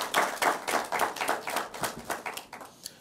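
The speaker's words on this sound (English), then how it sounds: "A round of applause for our contestants." A quiz show audience claps for university law contestants, a small group with rhythmic, fairly close handclaps that taper off over a few seconds.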